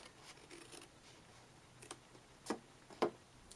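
Scissors snip a triangle divot from a paper milk carton template, a few faint, sparse clicks and cuts, the last two sharper and closer, with no talking.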